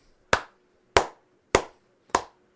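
Four sharp hand claps, evenly spaced about half a second apart, close and crisp with nothing else around them.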